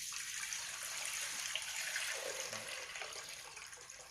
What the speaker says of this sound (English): I got like a Tupperware of water here, so I'm going to go ahead and pour it in.